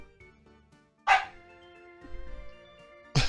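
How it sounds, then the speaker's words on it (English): A dog barks twice at home, two loud sharp barks about two seconds apart, over a quiet background of game music. "One of my dogs just randomly barked."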